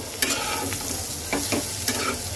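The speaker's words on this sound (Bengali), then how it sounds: "এবার এটাকে সুন্দর করে ভেজে নেব।" Soybean chunks fry in a pan with salt and turmeric, a bright continuous sizzle with a few quick scraping strokes of stirring, close and with no speech.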